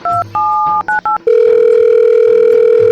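A telephone dials out with a quick series of loud keypad tones, then settles into a steady, continuous dial tone, close and clean with no voices.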